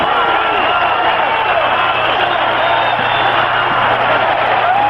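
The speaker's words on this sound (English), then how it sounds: "Hear the crowd counting." A large stadium crowd roars steadily and loudly at a #1 Notre Dame versus #11 Michigan college football game at Michigan, a dense wall of voices with no break.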